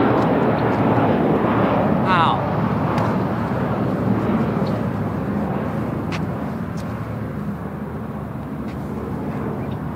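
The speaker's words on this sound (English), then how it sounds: "I have no clue how it took off that fast." Airplane taking off in the video game World of Fear, a loud continuous jet engine roar that holds steady then slowly fades slightly, with a short sweeping whoosh early on.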